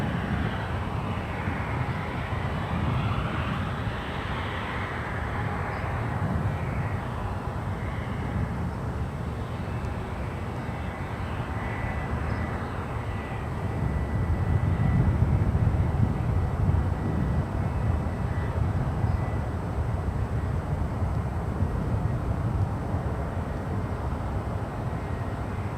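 A jet airliner lands at San Francisco International Airport, a broad steady engine roar at a distance that swells midway, with no voices over it.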